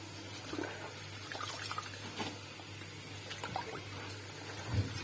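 Spinach being washed in water, faint splashing and trickling like a running tap or sink, soft and intermittent with no speech.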